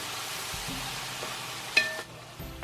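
Kerala lemon pickle mixture being stirred in a hot pan with a soft steady sizzle, a spoon scraping now and then and one sharper clink partway through.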